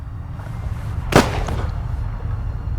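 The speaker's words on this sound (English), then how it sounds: "that's when we heard the gunshot" A single sharp gunshot rings out in a film scene, one loud crack over a low rumbling background, with a faint echo trailing after it.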